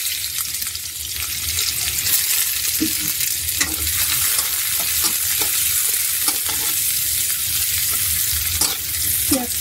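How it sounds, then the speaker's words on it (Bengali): Onions fried in oil in a pan after cumin seeds, stirred steadily: a continuous close sizzle with scraping spoon strokes and occasional clinks against the metal, no talking. "জিরাটা ভাজা হলে পেঁয়াজ দিয়ে দিচ্ছি"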